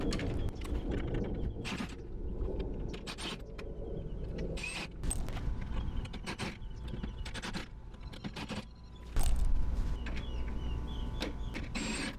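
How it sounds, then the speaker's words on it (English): Screws are backed out of the reinforcing metal on the back of a flatscreen TV with a power driver, short whirring bursts repeated at irregular intervals, close by, with small metallic clicks and clatter between them. "I'm actually going to start by taking out all these screws"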